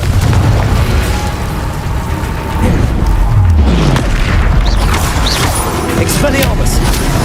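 Heavy booming spell explosions from the Hogwarts Legacy video game burst one after another over a dense, rumbling battle din, with voices running throughout.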